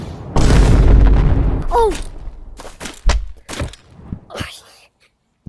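Revolver gunfire in the video game Animal Company: one heavy booming shot, then a few duller thumps a couple of seconds later, while a player cries out and talks.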